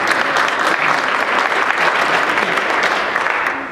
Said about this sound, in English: you're giving yourselves a round of applause